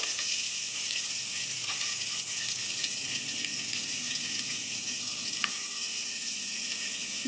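Onion and chilli frying in oil for a river pabda fish curry give a faint, even sizzle that runs unbroken for several seconds, with an occasional soft tick.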